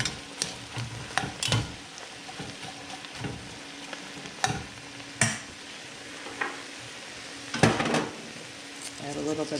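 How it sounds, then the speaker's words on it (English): Onion and mushrooms sauté over medium-high heat in a pan. A soft, steady sizzle runs under irregular clacks and scrapes of a utensil stirring, close by. "We'll saute this also over medium-high heat for a few minutes until the onion and the mushrooms start to soften."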